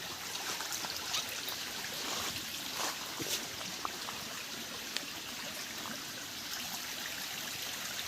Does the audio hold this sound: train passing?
no